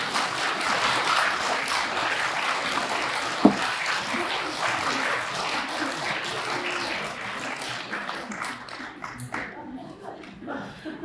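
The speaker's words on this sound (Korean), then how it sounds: "박수 좀 쳐." Church congregation at a Lenten retreat in Sanggok 3-dong, Incheon, clapping steadily throughout, a broad sustained patter of many hands that thins and fades toward the end, with crowd murmur underneath.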